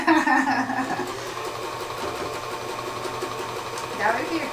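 A sewing machine runs steadily while stitching two pieces of fabric together, a close, continuous mechanical whir that is fairly loud, with people talking over it.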